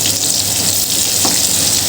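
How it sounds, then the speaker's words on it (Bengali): Prawns frying in a pan until their shells turn crispy, giving a continuous, fairly loud hissing sizzle that stays steady throughout. "আর একটু ভাজতে হবে।"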